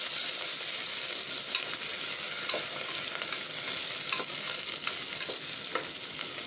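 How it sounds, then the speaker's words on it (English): One slit chili and a medium onion frying in a pan for Anglo-Indian brown stew, an even, close sizzle broken by light stirring scrapes every second or so. "I'm putting 1 slit chili and these 1 single medium-sized onion. We'll fry that all up."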